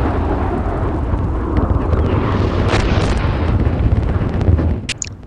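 Incoming fire explodes around a tank in the Steel Beasts Pro PE simulator, a loud continuous rumbling barrage of booms with crackling bursts, ending in a sharp pop.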